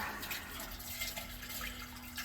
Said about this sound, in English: So as you can hear, the water's falling in here.